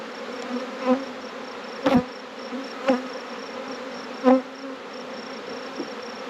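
A swarm of bees buzzes steadily around a hive as it settles into a resource hive, with a continuous droning hum broken by a few louder passes of individual bees flying close to the microphone.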